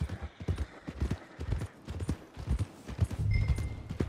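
Horse hooves clip-clopping in the video game Red Dead Redemption 2, a steady rhythmic series of close, distinct hoof strikes at a walking pace, with a faint tone toward the end.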